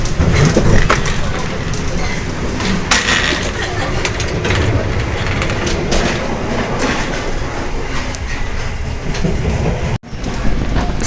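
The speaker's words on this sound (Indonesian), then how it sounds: "Sekarang saya berada di kereta restorasi KA Parahyangan." Steady clickety-clack and rumble of the KA Parahyangan train heard from inside its restaurant car, a continuous loud rolling din with faint background chatter throughout.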